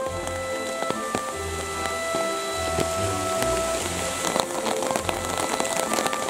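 Steady rain falling at night outdoors during a light-trap insect collecting session, a constant patter of drops on surfaces with scattered closer taps and faint rustling.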